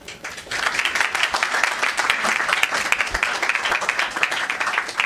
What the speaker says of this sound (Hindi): क्या लगता है आपको, इतनी तालियां बहुत हैं?